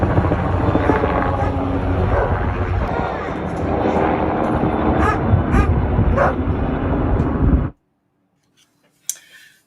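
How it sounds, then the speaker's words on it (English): A Tucson police helicopter flies low over a house: a loud, steady rotor roar fills most of the stretch, then cuts off abruptly to near silence. "Let's get to the chopper!"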